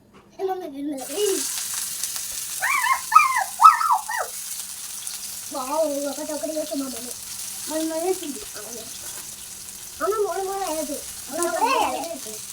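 Fish pieces laid one by one into hot oil for a hotel-style fish fry hiss in a soft continuous bed, while a voice talks in short bursts over the frying.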